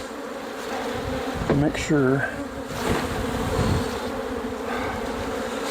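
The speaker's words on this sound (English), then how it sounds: "Still so many bees out there on the front, most of which are probably going to be nurse bees." Honey bees swarming around a hive front in the aftermath of a swarm, a dense steady buzzing drone close by, with someone speaking briefly over it.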